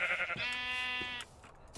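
A single sheep in the Minecraft video game gives one clear bleat lasting about a second, loud and close, framed by short soft clicks before and after.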